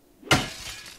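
A glass door breaks in the video game Obscure: a single sharp shattering crash that rings out briefly and fades into a faint tail.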